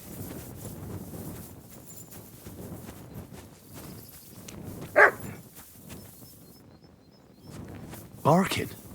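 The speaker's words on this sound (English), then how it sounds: "Barking." A dog barks in the medieval world of Kingdom Come Deliverance II: two short, sharp barks several seconds apart, the second louder and nearer, over steady outdoor game ambience and soft movement.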